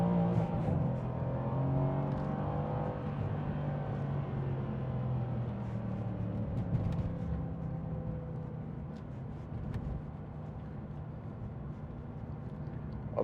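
A 2016 Mercedes-Benz C63 AMG with a 4.0-litre biturbo V8 revs steadily up close, a dense, sustained engine drone with rising and falling harmonics over about thirteen seconds, no voices.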